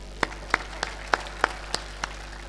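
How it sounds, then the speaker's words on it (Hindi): Sparse handclaps from a small audience at a Hindi poetry recital: about seven separate, thin claps spaced unevenly, with quiet gaps between them. "कविता खत्म हो गई, ताली बजाइए"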